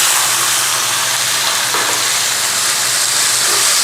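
Fried onions sizzling loudly in a pan after water is added for a sour raw mango and snakehead fish dish, a steady dense hiss of steam and frying throughout.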